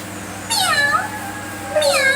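A toy egg gives off two electronic cat meows, clear and close, separated by a short pause, with no talk over them.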